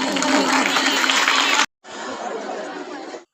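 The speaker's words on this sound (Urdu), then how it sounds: "آپ کی بھرپور تالیوں میں میں فلسطین ہوں" Audience at a Palestine tableau performance breaks into broad, dense applause with crowd noise, a steady loud wash that cuts off abruptly, then resumes a moment later somewhat softer before ending.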